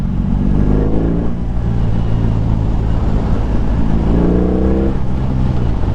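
A BMW R18 motorcycle's big engine revs up through the range, rising twice in deep grunting sweeps over a steady low rumble, close and loud.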